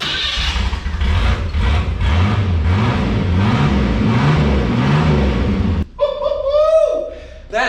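A 1984 Chevrolet S-10 pickup with a custom exhaust revs loudly and continuously, its engine note rising and falling in waves, then cuts abruptly before a short burst of higher-pitched whining sound close to the microphone.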